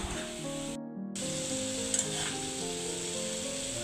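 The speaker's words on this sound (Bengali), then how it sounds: "এখন আলু ভাজি করতেছি দুপুরের জন্যে" Potatoes fry in a pan for lunch, giving a steady, close sizzle with a brief dropout near the start and a faint clink partway through; nobody speaks.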